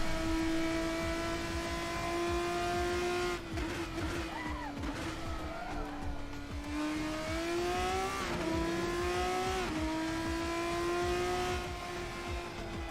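A race car engine in the Assetto Corsa sim holds a loud, steady high-pitched drone, with pitch dips and climbs as it shifts and accelerates through corners, continuous and close from the cockpit.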